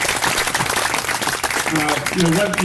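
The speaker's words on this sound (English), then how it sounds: "I just want to give you one more round of applause" An outdoor summer picnic crowd gives a round of applause, dense clapping that runs throughout while a voice speaks over it and faint music tones rise near the end.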